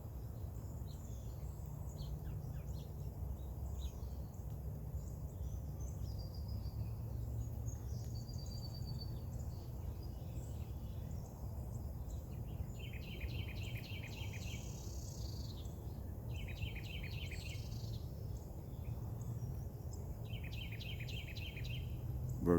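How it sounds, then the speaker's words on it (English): Birds sing in a morning garden in repeated short trilling phrases toward the end, faint over a steady low background hum and insect-like buzz. "Birds are happy this morning."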